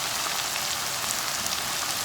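Ginger sizzling as it is sautéed in a pan for a potato masala filling, a steady, loud hiss of hot oil spitting and crackling continuously throughout, with no voices.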